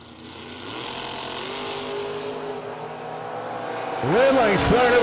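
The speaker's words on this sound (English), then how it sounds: "I had to know it was Kenny Underwood making all that noise in the water box." A drag racing car roars in the water box at a drag strip, with a steady engine drone that then swells into a loud, revving burst with sweeping pitch changes near the end.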